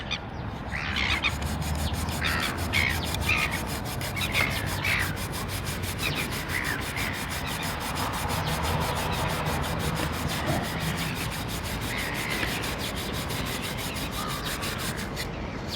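Steady abrasive scrubbing as rust is worked off the heat shield of an Optimus 199 camping stove, a continuous close rasping rub that never pauses.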